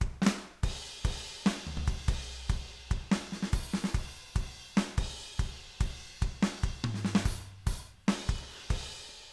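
A busy drum pattern with sharp, steady hits and bright cymbal crashes landing between the main beats, played alone at a moderate tempo.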